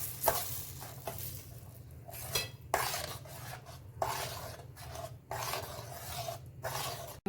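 Roasted cashews and almonds are mixed into a homemade ice cream base in a bowl, with repeated scraping and clinking spoon strokes in irregular bursts over a low, steady hum.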